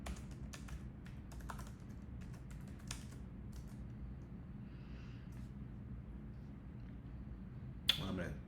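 Keys tapped on a computer keyboard while a password is entered during Windows 11 setup on a Mac, light scattered clicks in short bursts over a low background hum, with a sharper knock near the end.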